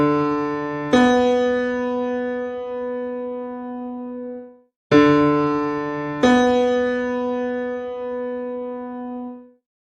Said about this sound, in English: Next up is the major 6th.